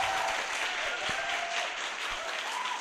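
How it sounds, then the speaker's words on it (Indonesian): An audience at a university gathering claps together in sustained, steady applause that fills the room, loud and even throughout with no pauses. "Aplaus dulu buat Anda semuanya."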